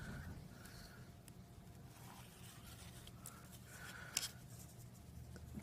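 A pen draws a best-fit line on a paper graph of ticker tape timer data, quiet scratchy strokes in short bursts with a small tap near the end, close and faint, with no speech.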